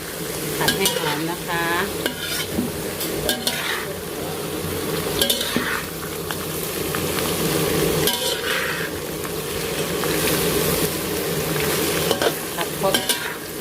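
Continuous sizzling of shiitake mushrooms frying in plain vegetable oil, with frequent stirring scrapes and clinks of a utensil against the pan.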